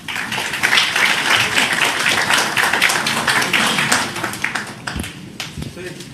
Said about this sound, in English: Let's give a big applause to this forum.